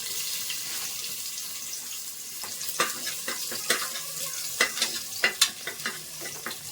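Garlic fries in oil inside a pressure cooker, giving a steady close sizzle broken by clinks and scrapes from stirring that grow busier toward the end, with no voices.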